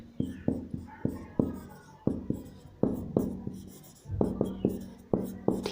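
Chalk or marker strikes a board in quick taps and short strokes while math is written out, a steady irregular rhythm of close, crisp marks with no talking.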